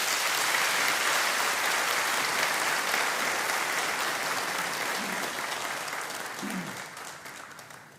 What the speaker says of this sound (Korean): 우리 큰 사랑의 마음으로 박수로 모시도록 하겠습니다.